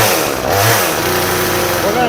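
Proyama 62cc chainsaw engine idles after warm-up, a close, loud buzzing putter that settles to a steady idle while someone talks over it.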